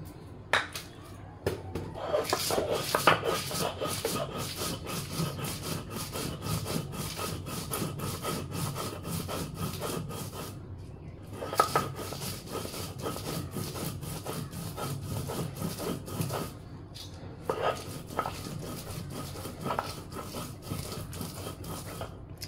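Prawn paste with garlic, onion and green chili being ground on a shil pata grinding stone: continuous rhythmic rasping and scraping strokes of stone on stone, moderately close, with no voices.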